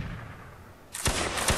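Musket volleys in the Napoleonic Wars video game, where a line of soldiers fires together: after a dull low rumble, loud overlapping sharp gunshots crack out in a close burst.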